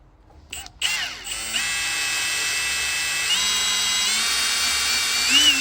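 Electric drill boring through a trolley part for a 1921 Lister TM stationary engine, a steady close whine that starts after a few clicks and runs continuously, rising slightly in pitch near the end.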